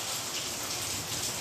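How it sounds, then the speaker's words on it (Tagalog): Steady rain pours down in a street where floodwater fills the canals, a dense, even hiss with no pauses and no voices. "Tubig ulan, tubig kanal."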